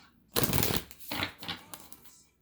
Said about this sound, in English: So let me pull one card from my Gaia Oracle deck.